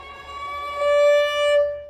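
A sustained bowed viola note slides smoothly upward to first-finger D, then holds steady with a slight swell in loudness.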